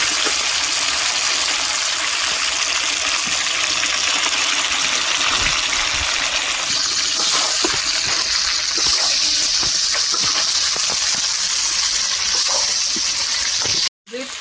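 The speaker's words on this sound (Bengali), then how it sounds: "এবার এর মধ্যে জল দিয়ে দেবো।" Water gushes steadily into a cooking pot holding potatoes in a home kitchen, a loud continuous pour lasting several seconds that ends abruptly.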